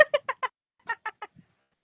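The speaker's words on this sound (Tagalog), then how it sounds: "bagal ng manok nyo, guys" A chicken makes a quick run of about eight short, clear clucks in two bursts, close to the mic with no other sound around them.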